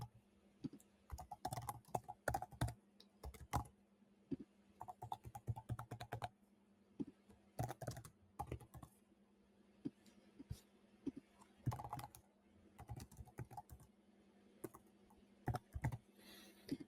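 Close, quiet typing on a computer keyboard while filling in a Google Form, with irregular clusters of quick keystrokes separated by short pauses over a low steady hum.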